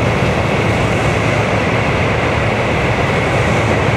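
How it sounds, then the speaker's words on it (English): A Japanese Shinkansen bullet train roars past close by, a loud, dense rush of wind and rail noise that stays steady throughout. "And here comes the bullet train."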